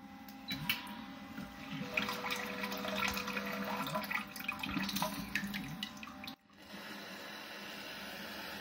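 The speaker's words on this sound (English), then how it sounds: "So that is the button for water coming out of that nozzle" An electric, voice-controlled bidet's nozzle sprays water in a steady hiss with some clicks and splashing, then cuts off abruptly near the end, leaving a quieter background hum.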